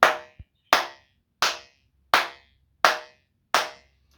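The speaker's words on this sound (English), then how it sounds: "it's pretty prevalent when I'm doing the clap test that there's some fluttering going on" Six evenly spaced, sharp hand claps in a room at home, each leaving a short ringing flutter echo before the next, close and loud with silence between.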